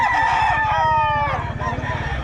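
Pumpkin Hatch rooster crows once loudly and close, a drawn-out call that fades into low background chatter and rustle.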